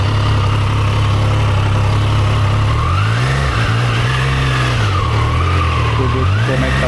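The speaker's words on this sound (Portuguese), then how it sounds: "olha o ronco da fera" Triumph Daytona 660 motorcycle engine running loud and close, a steady low idle that swells into revving rises and falls, with no talking over it.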